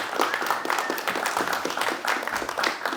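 Press conference audience for a Bellator mixed martial arts event in Paris gives a short, moderate burst of scattered clapping, uneven and somewhat distant, lasting about three seconds.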